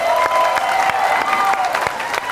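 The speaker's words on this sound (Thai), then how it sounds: "ปรบมือให้กำลังใจเข้มหน่อยนะครับ" A studio audience at a Thai variety game show claps for Khem, a brief, bright patter of applause with a faint tone running beneath it.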